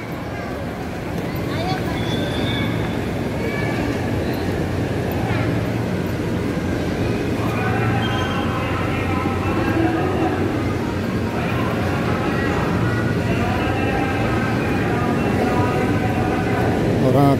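Train at Bekasi railway station on a crowded holiday, a low continuous rail rumble with squealing, whining tones rising over it and a busy background of voices on the platform.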